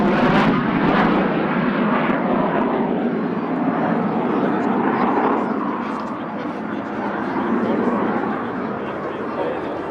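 F-111 jet aircraft making a high-speed pass overhead at an airfield, a loud continuous roaring rush that slowly fades slightly, with a voice talking over it.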